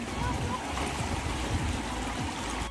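River water in Pokhara, Nepal rushes over stones in a steady, loud, broadband roar that fills the whole short stretch without pause.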